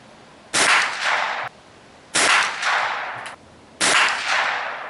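Three sharp rifle shots from a Mossberg 802 Plinkster fired at a target, spaced evenly about every one and a half seconds, each a loud close crack with a lingering outdoor echo.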